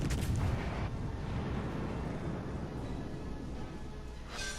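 Naval gunfire from a Giulio Cesare battleship in World of Warships: a heavy opening boom with a deep rumbling roll that fades into a steady low battle drone, ending with a sharper burst.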